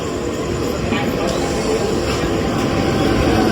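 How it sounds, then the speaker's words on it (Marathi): A commuter train pulls into Nalasopara station, a steady broadband rumble and rattle of rail cars filling the platform throughout, with voices talking over the noise. "आली ट्रेन या ट्रेनने आपण जाणार होतो बँड्राला"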